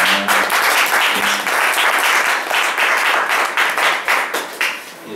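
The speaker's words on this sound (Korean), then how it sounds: "노가리에게 박수 한번 보내주십시오." Concert audience breaks into sustained applause for a guest musician at a small live venue, dense clapping holding steady before thinning out toward the end, with no talk over it.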